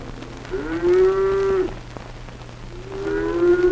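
Cattle moo twice, each call a long, loud, steady low bellow with rich harmonics, the first just over a second long and the second starting near the end, over a constant low hum.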